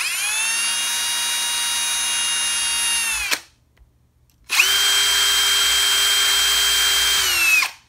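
Two close, loud runs of a power drill boring servo mounting holes in hardwood for a model Spitfire Reno racer, each a steady high motor whine separated by a brief silence.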